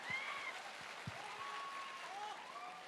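Loud, sustained audience applause fills a Hindi poetry gathering at Jashn-e-Kashi, with sharp whistles cutting through the dense clapping from start to finish.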